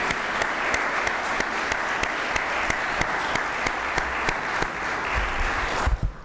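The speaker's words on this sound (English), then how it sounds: "Let's give Craig a round of applause." A conference audience at a college sports event applauds in a steady, full wash of clapping with sharp periodic claps standing out. Near the end it tapers off and a few low bumps sound.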